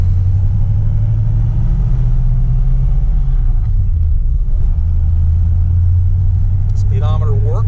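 A 1937 Packard 120 eases away in first gear with almost no throttle, its low steady engine rumble and drivetrain hum filling the cabin throughout, pitch shifting slightly as it rolls, with a brief squeak near the end.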